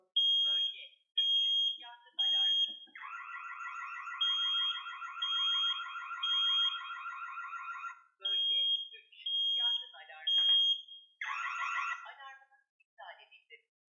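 An Opax ARD-575 alarm panel goes off after a wireless water leak detector triggers it, sounding loud repeating electronic beeps and a sustained warbling siren tone that starts and stops, with someone talking between the alarm sounds.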